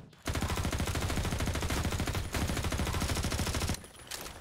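SMG gunfire in a Half-Life 2 map: rapid, continuous automatic bursts, loud and close, with a brief break partway through and a short pause near the end.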